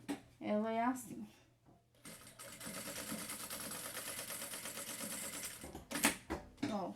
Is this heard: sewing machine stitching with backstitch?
yes